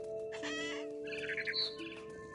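Mother bird in the video game What Remains of Edith Finch chirping in quick bright tweets and short clucking calls over a steady ambient game drone.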